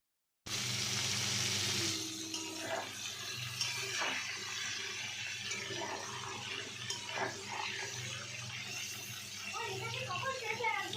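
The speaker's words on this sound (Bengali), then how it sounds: "কালো জিরে ফোড়ন দিয়ে উচ্ছেটা ভাজা হবে" Bitter gourd frying in a pan with a black cumin tempering and no oil, a steady close sizzle and crackle running throughout, with someone talking over it.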